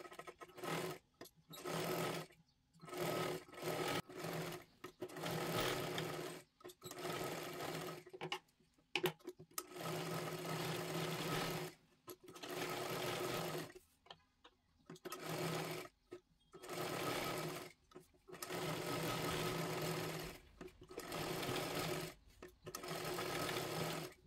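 Sewing machine stitching a katori blouse, running in repeated bursts of steady whirring separated by short pauses, close and clear with no talk.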